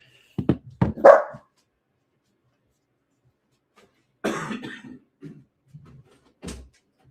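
A dog barks at another dog outside a window, giving a few short, close barks followed by scattered softer woofs and huffs in a quiet room.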